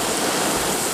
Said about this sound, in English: You can see kind of the sheets of rain that are being thrown across.